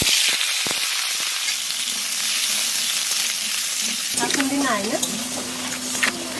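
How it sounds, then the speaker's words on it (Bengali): Cut potatoes frying in leftover fish-frying oil in a home kitchen, with a steady loud sizzle and hiss throughout, intensifying with crackling spatters as the pieces hit the hot oil. "মাছ ভাজা তেলের মধ্যে আলু কাটা দিয়ে দেবো।"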